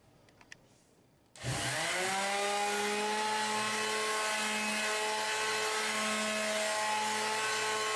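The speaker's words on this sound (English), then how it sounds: "I'm using a vibrating sander with 400 grit sandpaper just to loosen it up, roughen it up just a little bit" A vibrating sander with 400 grit sandpaper starts up on a wooden table after a quiet moment, then holds a steady, loud, close whine with a strong humming tone for the rest of the stretch.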